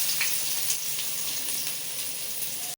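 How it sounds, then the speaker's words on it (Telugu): Oil being poured into a hot pan on high flame to start vegetable fried rice, giving a steady, close sizzling hiss that holds evenly throughout before cutting off abruptly. "ఫస్ట్ కొద్దిగా ఆయిల్ పోస్తున్నాను"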